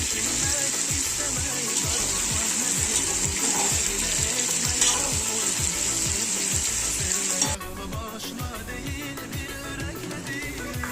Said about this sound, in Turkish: Şimdi havucunu tutuyorum. Havuç da kavrulacak güzelce.